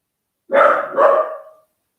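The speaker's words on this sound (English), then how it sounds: "Our little guard dog, Dachshund Chewy, who doesn't like anybody to come near the house" A dachshund kept as a house guard dog barks twice in quick succession, close and loud, with no talk over it.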